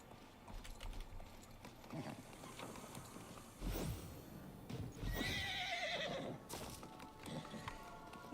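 A horse in the video game Disney Dreamlight Valley gives several whinnies and neighs amid clip-clop hooves and soft game sounds, with louder bursts spread across the stretch.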